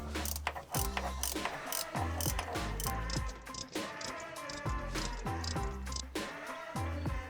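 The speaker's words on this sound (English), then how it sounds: "You're going to remove the bolts at these 3 locations on the oil cooler." A 12mm socket ratchet backs out oil cooler bolts on a Yamaha jetboat engine, producing rapid, close, continuous clicking in repeated strokes with no talk.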